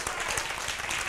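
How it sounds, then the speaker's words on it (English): Dense, continuous audience clapping fills a short stretch during a heated podcast debate, a steady wash of many hands close by with no gaps. "we're going to have some clapping and all of that"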